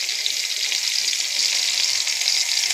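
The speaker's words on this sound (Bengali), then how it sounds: "অল্প করে একটু পেঁয়াজ ভেজে দেবো" Onion frying in oil with cumin seeds, a steady bright sizzle that stays even and close throughout with no speech.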